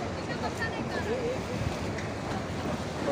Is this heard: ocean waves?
yes